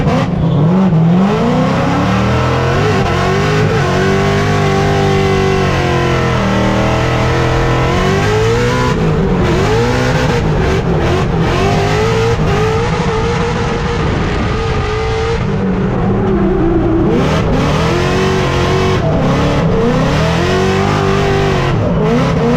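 A Formula D Mustang race car runs on track, its engine loud and close throughout, revving hard and rising and falling in pitch with brief easing between pulls and faint tire squeal, with no talking.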